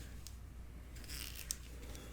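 Scissors fussy cut paper in faint, brief snips, a few quiet cuts close by against a soft background hiss.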